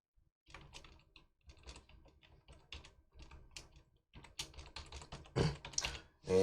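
Someone types a password on a computer keyboard: a close, irregular run of light key clicks in short bursts, getting louder and denser toward the end, with no voices.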